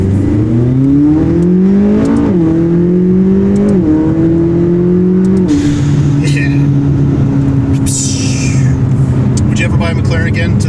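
A modified McLaren 570S with a loud turbo and exhaust revs hard, its engine note climbing and dipping in strong tonal sweeps before settling into a steady drone with crackling exhaust and rushing air, loud and close throughout.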